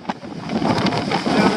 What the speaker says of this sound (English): that is a brutal wind coming off of there